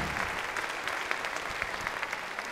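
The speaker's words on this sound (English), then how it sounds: "How about another round of applause for our amazing participants?" Sustained applause from an audience at a school district evening study center graduation celebration, a steady dense patter of clapping filling the room at moderate volume, with no talking over it.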